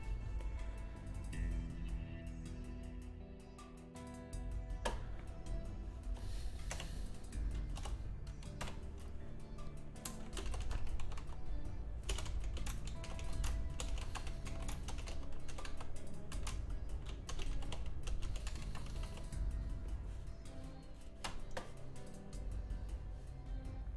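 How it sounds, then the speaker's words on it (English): Rapid, irregular clicking of a computer keyboard being typed on, steady bursts of keystrokes close to the microphone over a quiet room. "How loud is that typing on your side?"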